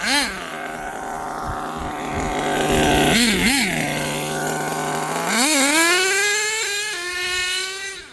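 An HPI Savage XL V2 RC monster truck's small engine buzzes loudly and steadily, dipping and rising in pitch as it revs, with a sharp climbing rev near the end as it drives.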